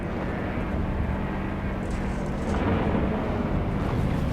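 Heavy bombers flying over Omaha Beach, a dense, steady low roar of massed aircraft engines filling the clip, continuous and loud with a slight swell toward the end, no voices.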